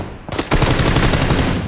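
Rapid pistol fire in the video game PUBG: a sharp burst of closely spaced shots, loud and near, rattling on for over a second.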